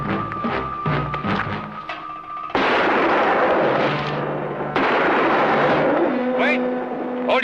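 Gunfire in a TV western: two sudden, heavy blasts ring out amid dramatic music and raised voices, each followed by a sustained roar of sound.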